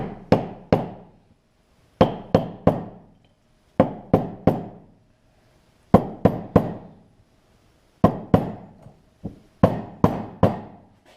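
Hammer strikes on a punch seat a wheel bearing and seal into the hub of a Yamaha Blaster ATV, sharp metallic knocks in groups of two to four with short pauses, close and loud, no talk.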